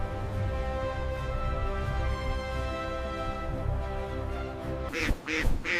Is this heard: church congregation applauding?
no